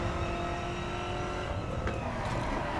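A racing car engine roars steadily and loud in the racing video game The Crew as another car pulls alongside to overtake, a continuous close drone with slight rising revs.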